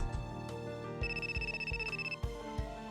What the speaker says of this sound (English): Oh, it looks like my phone is ringing.